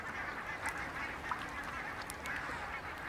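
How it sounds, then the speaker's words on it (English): Ducks, swans and coots crowded into the last open water holes of a freezing lake give scattered honks and calls over a dense, continuous background of waterfowl chatter. "Ducks, swans and coots huddle together in the last open water holes"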